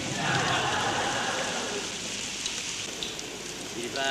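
Rain falls steadily outdoors, a dense hiss of drops spread evenly throughout, with a few faint knocks and brief scattered sounds beneath it.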